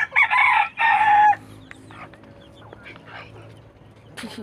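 Two loud, bright bursts of a chicken calling near the start, then quieter farmyard background with faint scattered clucks and a brief call at the end.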